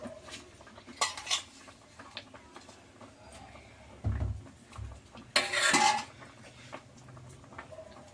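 Drumstick leaves are stirred into cooked moong dal with a metal spoon, producing a few scattered clinks and scrapes against the pot, two louder scraping bursts in the middle, and quiet pauses between.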